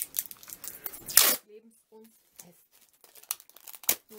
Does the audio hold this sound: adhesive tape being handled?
yes